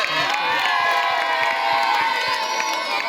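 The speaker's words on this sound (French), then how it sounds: "Acclamez fort, acclamez." A large crowd of schoolchildren cheers, shouts and whoops in a sustained, loud roar at a secondary school celebration of a drinking-water project in Bikoro, Équateur, with scattered claps.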